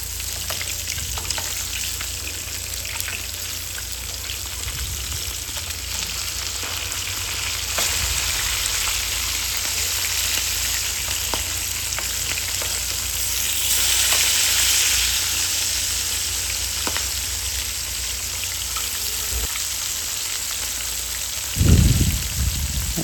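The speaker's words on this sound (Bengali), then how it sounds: "মাছগুলা এক পার্ট হয়ে গেল, অন্য পার্ট ভেজে নেবেন, উল্টিয়ে অন্য পার্ট ভেজে নেবেন।" Pieces of rui fish frying in hot oil in a pan, a steady sizzle and crackle that swells briefly near the middle, with a low clunk of the pan late on.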